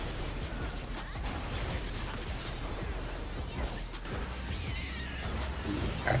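A cat enemy in the video game battle M6S meows and yowls repeatedly over dense, continuous combat noise.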